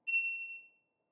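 A single bright ding from a bicycle bell newly fitted to a Gentry A4 e-bike, a sharp metallic strike that rings out clearly and fades over about half a second, with nothing else heard.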